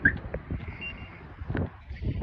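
A 2006 Chevy Silverado's aftermarket car alarm gives a short, clear electronic chirp right at the start as it is disarmed by remote, followed by quieter background noise.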